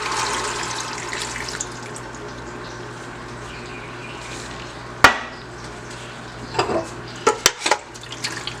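Seasoned water left from oxtail stew meat being poured into a stew pot, a steady liquid rush followed by a few sharp clinks and knocks near the end, close and fairly loud, with no talking.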